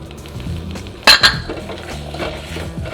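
Cranberries being stirred into liquefied sugar in a cooking pot for cranberry sauce: soft stirring under low kitchen noise, with two sharp clinks of a utensil against the pot just after the one-second mark.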